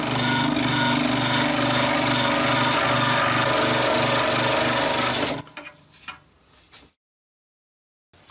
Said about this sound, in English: Hacking out the various pieces, the end pieces for the coach